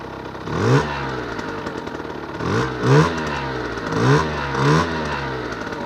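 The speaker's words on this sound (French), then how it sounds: "là je vais vous faire écouter le bruit de la bêta. Attendez, je vais la démarrer" A 2016 Beta RR 50cc motorcycle engine running, a buzzing two-stroke putter with several short throttle blips rising and falling, close and fairly loud, with no talking.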